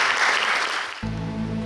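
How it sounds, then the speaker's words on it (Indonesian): A church congregation claps at a Sunday service, a short burst of steady applause that fades after about a second as sustained musical tones take over. "Tepuk tangan buat Tuhan Yesus."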